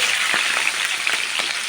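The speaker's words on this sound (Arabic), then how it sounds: "ويلا بينا بقى ايه على الزيت كده نحطها في الزيت" Potatoes sizzle and crackle steadily in hot oil, a dense continuous fry hiss with small pops scattered throughout and no voices.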